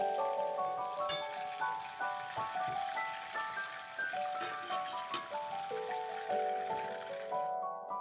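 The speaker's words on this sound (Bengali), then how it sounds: "এবার এই আলু ভাজার তেলেই আমরা ফুলকপিগুলোকেও ভেজে নেব" Cauliflower pieces frying in oil already used for potatoes sizzle continuously with a crackling, rain-like patter and a steady tonal hum beneath, fading out abruptly at the end.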